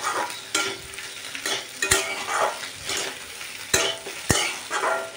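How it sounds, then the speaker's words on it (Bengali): Fish roe fries in a wok, with a soft continuous sizzle broken by repeated scraping strokes of a spatula against the pan, a few sharp metallic clacks standing out, close by with no talk. "ঘন ঘন ঘন ঘন নাড়াতে হবে, নাড়িয়ে লাল লাল করে ভাজতে হবে একদম।"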